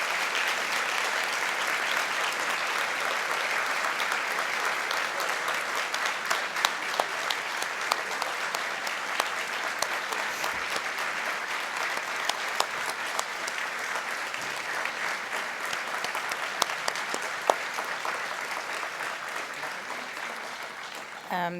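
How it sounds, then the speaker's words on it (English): Audience applause fills an award ceremony hall, sustained, dense clapping from a large crowd lasting over twenty seconds at an even level, with a few sharper claps standing out. "please give them a round of applause as they welcome them on the stage"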